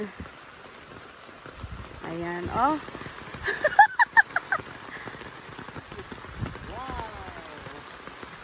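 Heavy rain patters steadily on a surface throughout while okra is picked, as a person speaks briefly and geese honk nearby.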